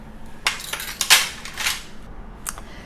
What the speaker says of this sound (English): mixing in the dry ingredients into the mixture